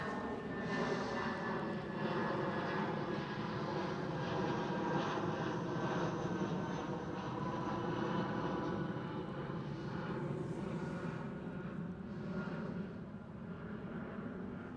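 An SAS Airbus A319 in retro livery at Schiphol gives a continuous broad engine roar that holds steady for the whole stretch, moderately distant and with no voices.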